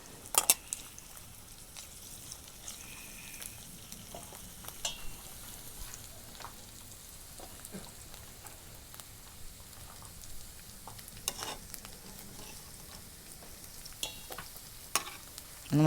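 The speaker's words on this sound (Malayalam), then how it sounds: "ഇത് ഞാൻ നന്നായിട്ട് വറുത്ത് തന്നെ എടുത്തേക്കുന്നത്." Chicken frying in coconut oil in a pan, a steady low sizzle with occasional stirring clinks and scrapes running through the whole stretch, close and fairly quiet, with no voices.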